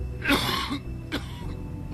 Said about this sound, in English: Just a little blood coughing.